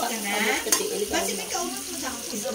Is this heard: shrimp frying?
yes